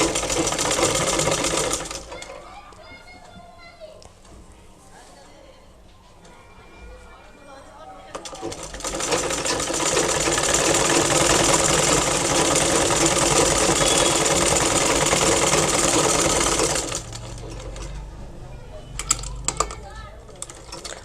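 Sewing machine stitching a narrow double-folded hem on a khimar hijab, a steady close mechanical hum in two long runs with a quieter pause between, and brief talk near the end.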